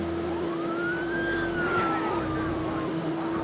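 Police car siren in the racing video game Midnight Club 2, a steady rising-and-falling wail at moderate distance over a low engine and road rumble, fairly quiet overall.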